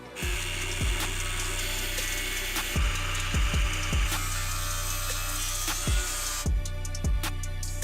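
A power tool steadily cuts through the front core support of a Nissan 300ZX, a continuous loud, bright grinding-rasp that holds for the whole stretch, punctuated by occasional low thumps and a tone shift near the end, with no speech.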